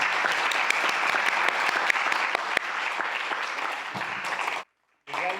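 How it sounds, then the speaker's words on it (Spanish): A book-launch audience claps loudly and steadily for the author Óscar de la Borbolla, a dense, sustained round of applause that cuts off abruptly near the end before a voice starts speaking. "les pido un aplauso todavía más fuerte para Óscar de la Borbolla"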